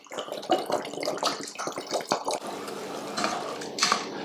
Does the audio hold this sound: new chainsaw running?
no